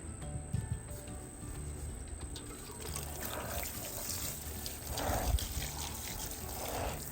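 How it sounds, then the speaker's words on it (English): Plant seedlings are being watered with fertilizer water, giving a soft, continuous trickle and splash that swells a little at moments. The sound is close and moderately quiet, with no talking. "I'm going to go ahead and water them in with a fertilizer."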